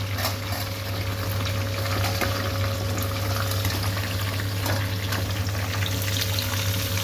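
Green chillies fry in a pan for chutney, giving a steady, even sizzle with a low hum that runs the whole time, close and moderately loud.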